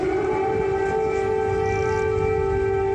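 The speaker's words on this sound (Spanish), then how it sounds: "acompañados por el sonido de una sirena antiaérea" An air raid siren wails steadily and loudly through the streets of Kyiv, a sustained mechanical tone holding for the whole stretch with no pause or talk.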